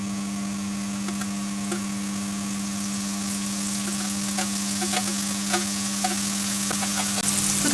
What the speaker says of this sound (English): Put the potato wedges in the frying pan, and then just let it gently fry about 5 minutes.